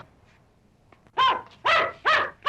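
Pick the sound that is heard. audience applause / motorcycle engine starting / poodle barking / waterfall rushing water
poodle barking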